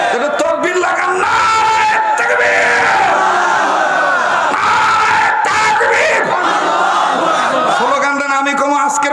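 A large crowd at a religious gathering shouts takbir, Allahu Akbar, in loud unison, with rising and falling chants and yells that fill the whole stretch.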